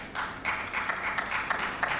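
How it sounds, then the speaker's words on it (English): A small audience gives faint, light, scattered applause for about two seconds, thin and distant. "Another small applause"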